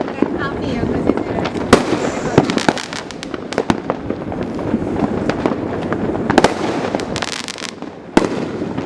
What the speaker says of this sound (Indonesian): Mercon iki.